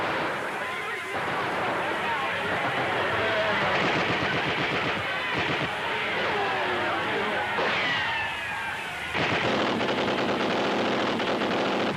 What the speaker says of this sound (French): D'autres coups de feu sont tirés des tours de Notre-Dame.